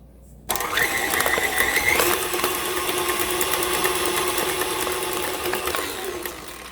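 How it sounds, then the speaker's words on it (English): Electric mixer with a whisk attachment beating eggs into creamed butter and sugar for jam thumbprint cookie dough. A steady motor whir starts abruptly and runs throughout with rattling tones, close and loud, with no talk. "I'm going to be mixing all of that together with eggs again"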